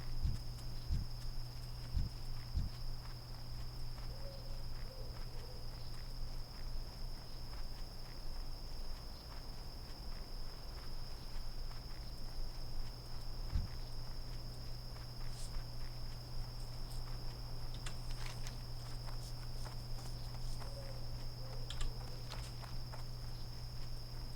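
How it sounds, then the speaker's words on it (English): Crickets chirp softly and steadily in the nighttime ambience of a World of Warcraft Classic zone, with a few faint footsteps now and then. "Do you like the sound effects for this area? Little crickets in the background."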